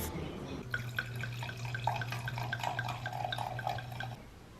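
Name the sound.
wine being poured into a glass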